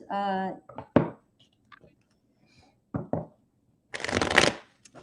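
A short riffle of playing cards being shuffled, preceded by brief scattered taps and a voice, ending in a longer burst of cards fluttering together.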